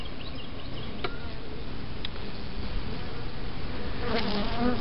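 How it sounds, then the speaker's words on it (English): Honey bees buzzing steadily at an open hive during a spring inspection after winter, a close, constant insect drone with occasional individual bees zipping past the microphone. "There's bees"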